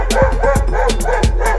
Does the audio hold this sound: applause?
no